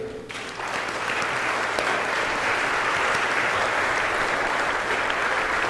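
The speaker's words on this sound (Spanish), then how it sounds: "Un aplauso nuevamente para nuestro ponente" Audience applause for a lecturer at a national congress on innovative programs: after a brief quiet start, a large room's clapping swells and then holds as a steady, dense, loud wash to the end.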